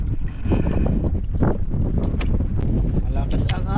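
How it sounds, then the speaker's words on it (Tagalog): Strong wind gusting loudly over a boat at sea, a broad steady roar with microphone buffeting that persists throughout while people talk over it. "Malakas ang hangin."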